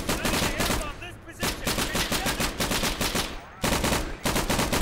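Rapid bursts of machine gun fire in a World War II tactical shooter game, loud and dense, broken by brief pauses near one second and again around three and a half seconds.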